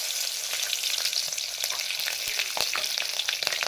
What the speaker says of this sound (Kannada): ಮೆಣಸಿನ್ಕಾಯಿ ಫ್ರೈ ಆಗತ್ತವ ರೀ